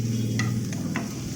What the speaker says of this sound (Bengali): এদিকে এদিকে একটু ভেন্ডি ভেজে দেবো